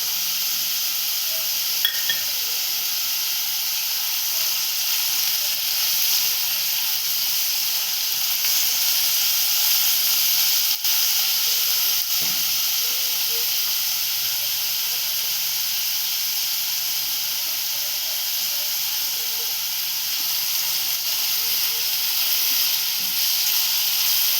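Chopped onions frying on medium gas until brown for a spicy chicken keema, giving a loud, steady, close sizzle and hiss that runs unbroken throughout with only a couple of faint clicks.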